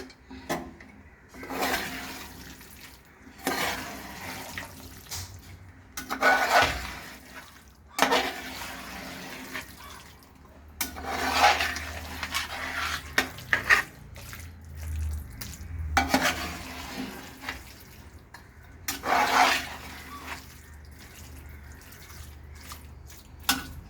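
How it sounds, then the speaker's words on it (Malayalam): Pork with sprinkled black pepper powder is stirred in a pan, bursts of scraping and sizzling coming in repeated waves with quiet gaps between, a low rumble beneath some strokes. "നമുക്കൊന്ന് ഇളക്കി കൊടുക്കാം"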